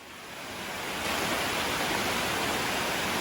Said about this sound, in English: this is the waterfall just as you're coming down into Route 40. Absolutely beautiful.